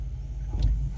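A car engine revs on a snowy mountain pass in deep drifts, a steady low rumble that swells briefly mid-clip, close and alone with no talk.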